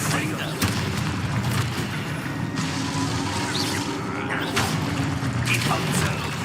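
Confringo blasting spell explosions in the Hogwarts Legacy video game, heard as several muffled booms and bursts over a constant, busy layer of game sound and music.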